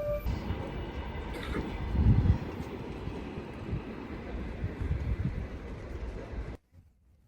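An electric commuter train heard from inside a carriage: a steady low rumble of wheels on rails with faint rhythmic clatter, going on without a break until it cuts off abruptly near the end.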